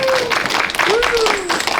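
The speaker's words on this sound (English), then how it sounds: "can I get a round of applause to all of the fursuiters?" An audience at a furry convention fursuiting panel claps for the fursuiters, brisk dense clapping with cheering voices and a whoop rising over it, close and loud for a couple of seconds.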